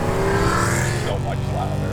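A supercharged BMW E92 M3 engine revs hard and close, a loud continuous roar that climbs and then settles, with a voice talking over it.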